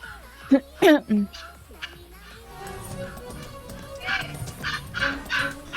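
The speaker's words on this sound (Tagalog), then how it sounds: "Ingay ng aso namin, alam mo yan." A few sharp dog barks and yips close by early on, followed by a noisier stretch of movement and faint whimpering sounds.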